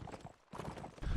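Horses gallop in a medieval battle video game, a steady clip-clop of hooves under the busy noise of combat, with a short lull midway before the hoofbeats pick up again and grow louder at the end.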